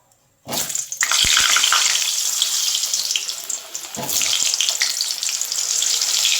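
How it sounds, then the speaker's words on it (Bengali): Potatoes dropped into hot oil in a wok burst into a sudden loud sizzle that stays strong and steady, then surges again a few seconds later as more are stirred in. "কড়ায় তেল দিয়েছি একটু আর তেলও গরম হয়ে গেছে এর মধ্যে আমি একটু আলু ভেজে নেব"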